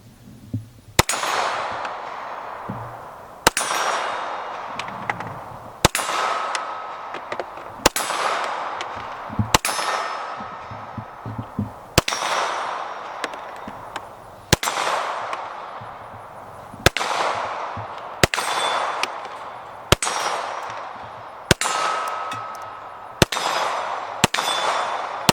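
A 9mm pistol firing at steel targets on a range, with about a dozen loud, sharp shots spaced a second or two apart, each followed by a ringing metallic clang and a short echoing decay.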